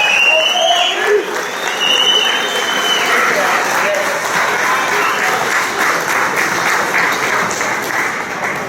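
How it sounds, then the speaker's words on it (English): An audience applauds on a Jersey City Fire Department chief's last day after 30 years of service. The clapping is sustained and full for almost nine seconds, with voices mixed in throughout. "can we have a round of applause for Chief Conforti of 30 years in the Jersey"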